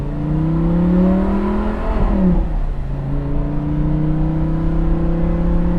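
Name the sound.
sports car engine revving with upgraded exhaust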